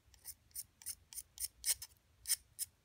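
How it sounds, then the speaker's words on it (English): A charcoal pencil is shaved with a blade, about nine short crisp scraping strokes in an even rhythm, close and quiet with no talking. "So I'm gonna turn like this while I'm sharpening the pencil."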